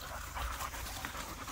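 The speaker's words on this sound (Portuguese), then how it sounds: "Aí, muito cachorro solto." A loose street dog panting quickly and steadily at close range, soft rhythmic breaths with a faint whimper, no talk.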